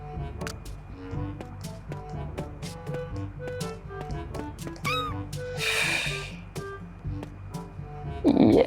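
A cat meows several times in The Walking Pet video game, set among steady game music and small tapping effects, with a brief hissy burst midway.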